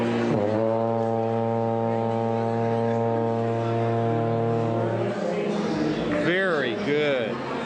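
A tuba gives one long, loud, low sustained note at a street Tuba Christmas gathering, held steady for about five seconds and then broken off into brief wavering tones.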